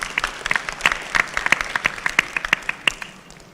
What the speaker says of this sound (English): give applause to the speaker